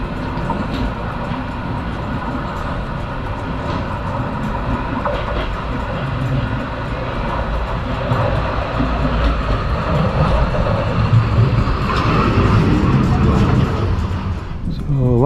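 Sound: Bergen funicular car hauled by cable

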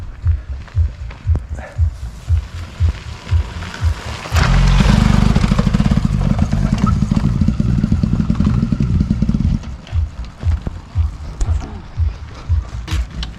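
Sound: motorcycle being push-started

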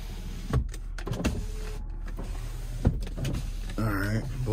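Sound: car power windows operating

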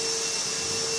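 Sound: vacuum cleaner running in a 24-hour gym

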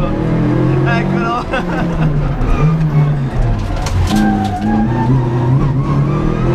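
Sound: Renault Clio 1.8 Gr.N rally car engine

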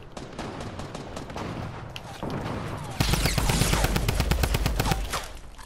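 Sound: drum gun rapid fire in Fortnite video game

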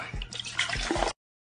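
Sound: Coca-Cola being poured

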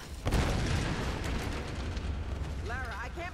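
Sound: explosion in the video game Tomb Raider

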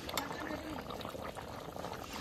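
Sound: water poured into chicken biriyani to boil

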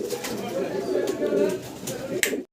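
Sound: pigeons cooing

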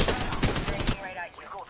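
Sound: gunfire in the video game Apex Legends

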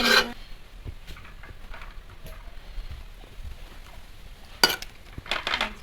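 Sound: shaking covered pot of biryani rice

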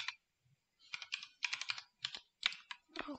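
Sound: typing text on a computer keyboard

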